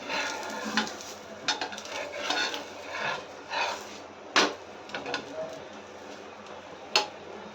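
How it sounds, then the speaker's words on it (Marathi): Paneer potato paratha flipped on a hot pan, heard as scattered light scrapes and taps with a sharp spatula-like knock midway and another near the end, over a soft continuous sizzle. "आता आपण हा पराठा पलटून घेऊया"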